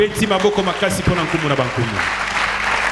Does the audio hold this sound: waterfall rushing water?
no